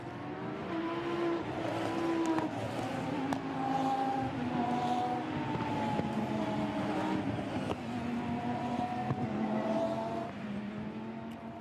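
Lamborghini Super Trofeo race cars accelerate away from a rolling start at Imola, a full grid roaring together in a dense, continuous engine drone with rising and falling revs as gears change, loud and sustained.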